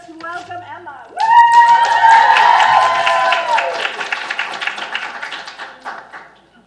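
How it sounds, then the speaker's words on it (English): An audience at a medical talks event bursts into loud, excited applause with cheers, rising abruptly after a brief spoken moment and then tapering off gradually toward the end. "We are responding with a raucous, excited, worthy of their amazing performance clap"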